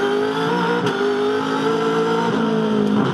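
A V8 Supercar at the 2012 Adelaide 500 street circuit runs hard over the kerb at turn 9. Its engine gives a loud, sustained revving roar with shifting pitch and brief changes in tone.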